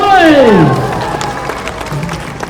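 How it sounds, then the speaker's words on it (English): A street-show crowd at Darling Harbour in Sydney at night claps and cheers for two boys, opening with a loud falling vocal whoop that gives way to scattered clapping and crowd noise. "Can we get a big clap for those 2 boys?"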